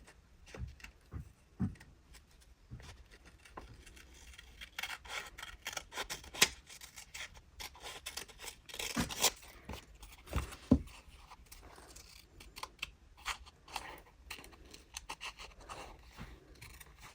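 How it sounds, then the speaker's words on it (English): Scissors snip through paper while cutting out a bird shape, the close, crisp cuts coming in irregular bursts with scraping and rustling of the sheet between them. "What we can do now is cut him out."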